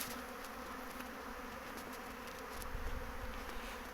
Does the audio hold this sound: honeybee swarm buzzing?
yes